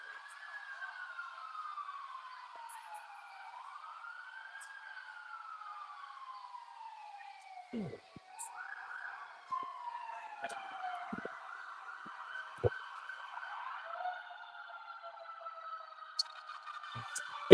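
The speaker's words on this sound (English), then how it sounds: "Here comes some sirens." Emergency vehicle sirens pass outdoors, rising and falling wails at moderate distance that shift into a faster yelp, with occasional sharp clicks and street noise.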